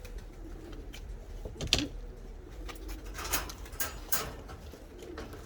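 Soft, low pigeon coos murmur close by, with a few brief sharper clicks and rustles scattered through.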